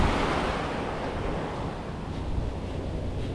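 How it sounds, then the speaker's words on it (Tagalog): Ocean surf washes steadily onto the beach at Pundaquit in San Antonio, Zambales, a broad continuous roar mixed with wind buffeting the microphone, no voices. "Malakas, medyo malakas din yung alon ah"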